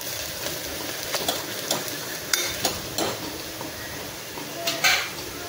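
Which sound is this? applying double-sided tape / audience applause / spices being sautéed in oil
spices being sautéed in oil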